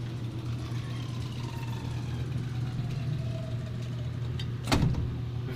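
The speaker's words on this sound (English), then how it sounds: "we've got the rubber band door operator." A rubber-band door operator on an old Westinghouse elevator in a Norfolk, Virginia apartment building runs with a steady low motor hum and faint rising whines, then gives a single sharp clunk near the end.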